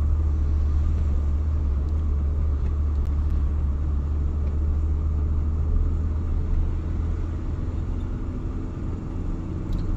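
A learner's car at driving school moves along at low speed, its engine and road rumble forming a steady, continuous drone from start to finish with no talk over it.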